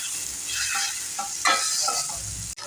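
Tomatoes sautéing in a pan for a Kannada-style brinjal curry (badnekayi palya), a steady close sizzle with stirring scrapes and a brief clatter near the end; no talking.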